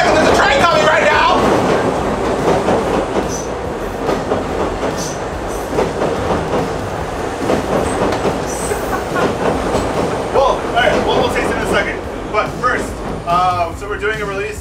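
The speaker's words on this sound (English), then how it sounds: "there's a train coming right now!" A train rolls past near a brewery, a loud continuous rumble and rattle of wagons with clacking wheels and occasional squeals, while people talk over it throughout.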